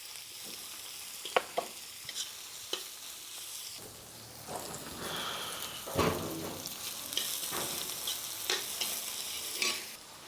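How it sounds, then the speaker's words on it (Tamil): Onions are added to frying chana dal and urad dal in oil, giving a crackling sizzle punctuated by sharp clinks and scrapes of stirring. The level stays moderate and no one speaks. "இந்த டைமில் 2 வெங்காயம் வெட்டி வச்சுருக்கேன், அதை போடலாம்."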